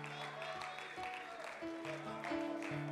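Church congregation clapping along during worship singing, rhythmic claps mixed under sustained sung and instrumental tones, fairly quiet and steady.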